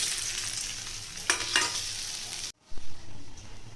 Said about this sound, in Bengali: ইলিশ মাছ তো খুব বেশি ভাজতে হবে না